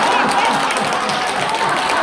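Elderly audience at a Korean laughter-therapy lecture clapping together while laughing, a thick continuous roar of hands and mixed voices filling the room.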